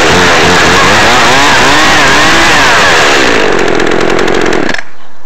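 Echo CS-330T chainsaw runs loud and close, its engine revving up and down in wavering pitch sweeps, then holding high before cutting off abruptly near the end.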